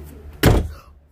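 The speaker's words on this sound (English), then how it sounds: "this door keeps slamming" A house door pushed shut by air pressure from a fan, a single sharp thump close by, followed by a short decay.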